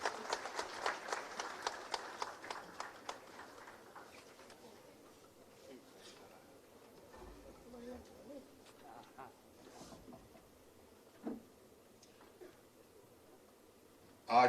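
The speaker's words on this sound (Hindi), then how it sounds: "तालियों के साथ स्वागत करें माननीय मुख्यमंत्री जी का।" Applause welcoming the Chief Minister in a hall in Chaibasa, a burst of rhythmic clapping at the start that fades within a few seconds into quiet room murmur with scattered sounds.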